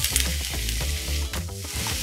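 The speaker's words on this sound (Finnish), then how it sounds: "Seuraavaksi laitetaan paistimannalle sipuli." Chopped onion sizzles in a hot frying pan, a steady close crackle and hiss with occasional stirring scrapes, no talking.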